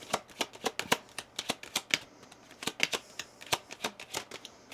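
Tarot-style Kipper cards being shuffled by hand, a rapid run of crisp, papery riffles and snaps in an uneven rhythm, close and fairly quiet with no voices.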